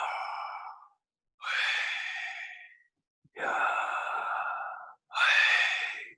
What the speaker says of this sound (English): I'm going to breathe, literally breathe the name of Yahweh